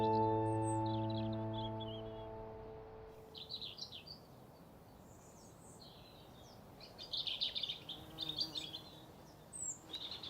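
Birds sing in a garden: bright chirps and short phrases, some near and some distant, scattered in bursts over a quiet background, following a fading sustained musical tone at the start.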